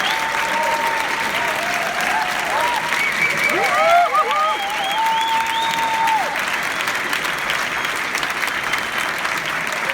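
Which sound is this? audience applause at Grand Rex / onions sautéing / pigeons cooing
audience applause at Grand Rex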